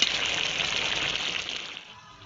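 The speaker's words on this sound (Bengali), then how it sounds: "তরকারি কিন্তু ফুটতে শুরু করে দিয়েছে।" A pot of fish-head and cauliflower muri ghonto curry with potatoes bubbling on the stove, giving a steady hissing, gushing boil that fades slightly toward the end.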